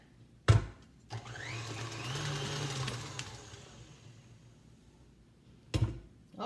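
An electric mixer whirs through banana bread batter in a bowl, starting after a knock and running steadily for several seconds before winding down, followed by another clunk.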